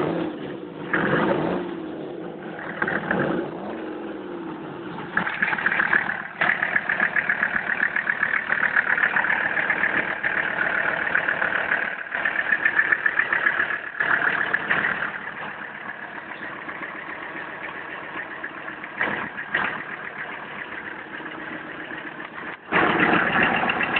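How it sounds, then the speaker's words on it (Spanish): A 1981 Unimog 6x4 turbo diesel idles with a steady, moderately loud mechanical rumble and clatter, a faint turbo whine, and a few brief revs or knocks throughout. "Turbo Diesel."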